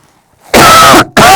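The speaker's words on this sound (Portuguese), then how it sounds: "Eu acho mais legal a gente tossir de verdade aqui" A person coughs twice, loud and close, with a long harsh burst followed by a shorter one after a brief gap.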